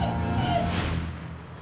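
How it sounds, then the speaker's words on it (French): A dog behaving strangely at home in Mesa, Arizona, gives high, thin whimpers and brief yips, close and clear through the first second before fading into a quieter, muffled tail. "Avec qui ou quoi ce chien communique-t-il?"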